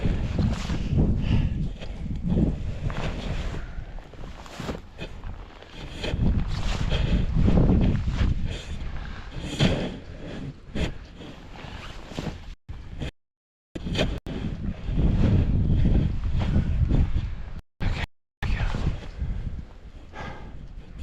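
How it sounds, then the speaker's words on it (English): Strong wind buffets the microphone on the summit of Flat Top Peak near Anchorage, Alaska, a loud continuous roar with gusty swells and a few brief dropouts. "There's a lot of wind happening up there."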